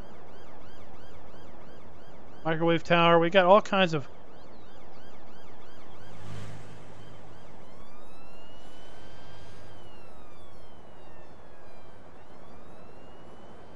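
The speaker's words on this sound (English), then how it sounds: "Got some sirens over here" Sirens wail faintly and distantly across a Farming Simulator 19 countryside map, over a low ambient bed, with a short burst of someone talking and a brief bright warbling sound near the start.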